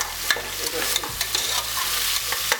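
Garlic and ginger frying on a stove for curry chicken, with a continuous close hiss and a low steady hum underneath, punctuated by regular utensil knocks and scrapes.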